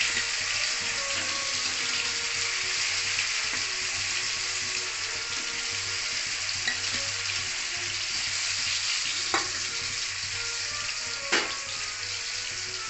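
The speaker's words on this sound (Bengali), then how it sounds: "আমি এবারে এগুলো ছেড়ে দিলাম, একটু লাল করে ভেজে নিতে হবে এগুলো।" Lentil dhoka cakes fry in oil in a kadai with a constant soft sizzle and a few faint clicks of a utensil, with no talking.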